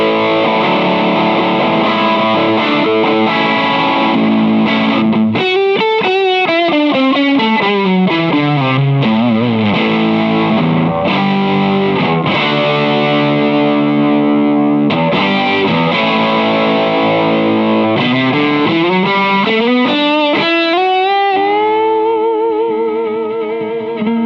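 A Harley Benton HB-15GXD JamBox amp on its lead setting, with heavily distorted electric guitar playing fast lead runs, sweeping bends and sustained notes, loud and continuous without talking.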